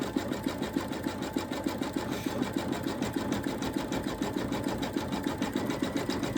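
An embroidery sewing machine stitches an Easter bunny appliqué in a steady, rapid mechanical rhythm, moderately close and running alone without talk.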